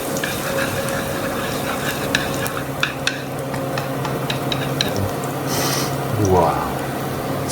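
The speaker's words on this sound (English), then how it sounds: "you hear that sizzle? That's what we're after." Pork sizzling and crackling steadily in a hot oiled pan, close by, with some stirring clatter and a brief scrape near the end.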